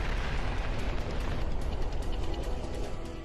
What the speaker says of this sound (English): Then, 9 seconds later, another huge explosion.